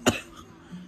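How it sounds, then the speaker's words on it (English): A single sharp cough from a young woman, close and fairly loud, followed by a faint throat sound and quiet room background. "I don't know why I'm really coughing."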